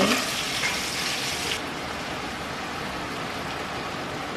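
Garlic, onion and chili hit hot oil in a pan, giving a loud hissing sizzle that drops slightly after a moment and settles into a steady close frying sound, with no one speaking.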